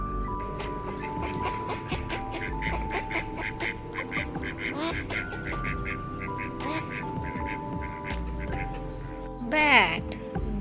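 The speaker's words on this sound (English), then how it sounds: "Duck, duck." A duck quacks in a few short, fairly close bursts, with the loudest call near the end, over steady outdoor background noise.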